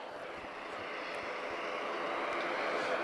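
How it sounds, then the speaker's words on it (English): A Swift Air ATR 72-500 turboprop departing Lisbon for Madrid makes a steady, broad engine roar that grows slightly louder over a few seconds, heard from a distance with no talk. "This is Swift Air. This is an ATR 72500."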